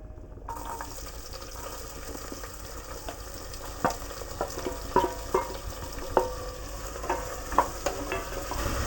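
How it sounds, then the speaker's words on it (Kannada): Sliced onions and long-cut green chillies sizzle steadily in hot ghee for ghee rice, with sharp spoon scrapes and stirring clicks rising over the frying hiss. "ಈಗ ಈರುಳ್ಳಿ ಹಾಕ್ತಾಯಿದ್ದೀನಿ. ಈರುಳ್ಳಿ ಮತ್ತು ಉದ್ದುದ್ದ ಕಟ್ ಮಾಡಿರೋ ಮೆಣಸಿನ್ಕಾಯಿ."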